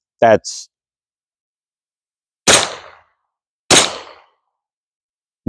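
Suppressed 9mm subsonic rounds fired from a 10-inch FM9 short-barreled rifle with a Witt Machine combat can into dirt, several sharp muffled cracks with short decays, spaced irregularly with silence between.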